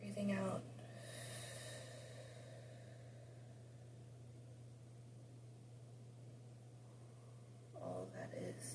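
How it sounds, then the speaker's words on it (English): A slow, deep exhale during a guided meditation, a soft, steady airy rush lasting several seconds, faint and close, over a constant low electrical hum. "And breathing out."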